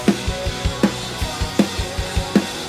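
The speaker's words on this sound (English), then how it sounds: "So most drummers would play 8th notes on the crash cymbal like this." A drum beat with steady eighth notes on a crash cymbal over kick and snare hits, a crisp even rhythm in a loop with accented cymbal crashes recurring about every three-quarters of a second.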